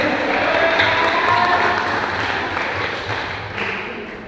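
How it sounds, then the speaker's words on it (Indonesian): A youth Bible quiz gathering of a church congregation in Tahuna applauds one competing team, a loud burst of crowd clapping that gradually fades toward the end. "coba tepuk tangan untuk kelompok C"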